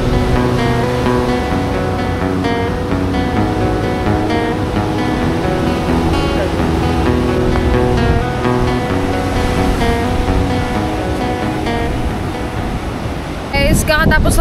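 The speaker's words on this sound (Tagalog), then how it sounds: "Kaso ang lalaki ng alon guys." Loud, continuous roar of large ocean waves breaking on Nacpan Beach during stormy weather, a dense wash of surf noise that persists throughout, ending with a brief burst of nearby rustling.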